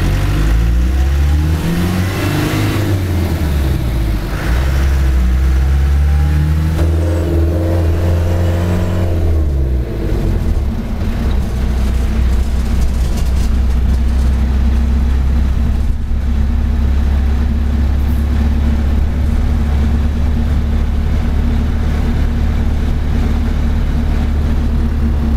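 A 1988 Land Rover Defender 110 County 4x4 driving down a road, its engine rising and falling through gear changes and then holding a loud, steady drone, heard from inside with no talking.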